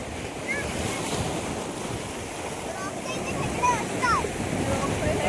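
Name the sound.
sea waves at Khavane beach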